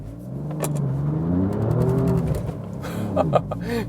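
A 2017 Alfa Romeo Giulia Quadrifoglio with stability control off spins its worn tires from a stop. The engine roar rises and swells with scrabbling tire noise and a few sharp chirps, fairly close.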